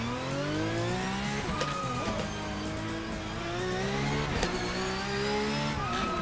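An unrestricted GT3 race car engine in a racing video game revs high, its pitch climbing and dropping sharply through repeated gear shifts, loud and continuous, with occasional tire squeal.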